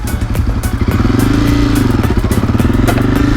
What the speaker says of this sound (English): Give it some gas and let out the clutch slowly.